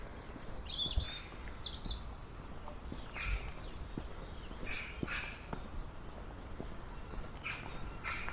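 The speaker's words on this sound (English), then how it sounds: "Can you hear the birds?" Birds sing in a quiet ravine on the coast near Filey, with scattered chirps, whistles and crow-like caws at varying distances over a faint, hushed background.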